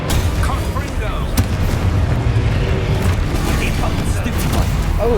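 The Confringo fire spell explodes in the Hogwarts Legacy video game, with loud deep booms and bursts over a dense rumbling game soundscape, and a voice talks over it.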